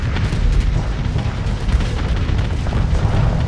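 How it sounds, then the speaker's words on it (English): Torpedoes explode in Starsector space combat as a dense, rumbling barrage of low booms and bursts that rolls on steadily without a break, loud and close. "Oh, torpedoes land."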